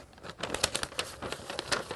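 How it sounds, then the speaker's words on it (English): A sheet of protective paper for dye-sublimation printing on a travel mug crinkles and rustles in short, close, uneven bursts, with no talk over it. "What you're going to do next is grab your sheet of protective paper,"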